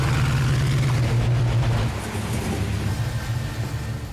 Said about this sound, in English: The car sounds awesome when it fires up. The engine sounds great. It sounds like a muscle car.